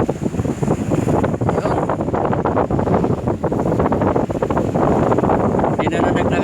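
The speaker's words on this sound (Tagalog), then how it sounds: "lalong lumakas ang hangin. Ayun, malalaki na yung alon mga katropa." Strong wind batters the microphone while large waves surge and crash along the Dammam Corniche seafront, a loud continuous roar throughout with someone talking over it.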